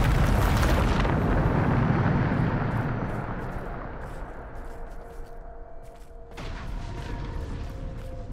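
A Bombarda spell explosion in Hogwarts Legacy: a loud, broad blast with a heavy low rumble that swells over the first seconds, then fades into a lingering rumbling tail, with a second brighter burst of crackle near the end.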